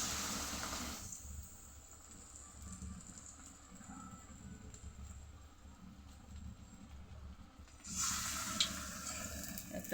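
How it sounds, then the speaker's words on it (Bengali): Egg and potato chops dipped in batter fry in hot oil with a steady, close sizzling hiss that flares louder at the start and again near the end. "এখন ব্যাটারের মধ্যে একটা একটা করে দিব আর তেলের মধ্যে ভাজবো।"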